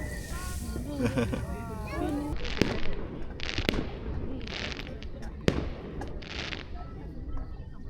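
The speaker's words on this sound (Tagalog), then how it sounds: "Ayun, fireworks, oh." Fireworks over Batangas City, heard from a campsite on Mt. Banoy, burst in a loose series of sharp pops and booms with crackling trails, while voices talk over them.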